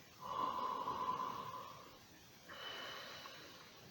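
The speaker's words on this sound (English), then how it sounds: "So now you got the long sniff." A long sniff of a raspberry sour beer held close to the nose: an airy inhale swells over about two seconds, then a second softer, steadier draw of breath follows, with no talking.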